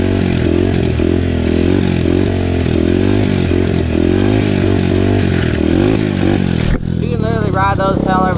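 SSR150R pit bike engine revving loudly and continuously while being ridden, a harsh buzzing drone with shifting pitch that cuts off near the end, a voice talking over it.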